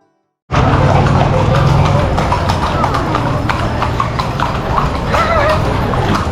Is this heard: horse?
yes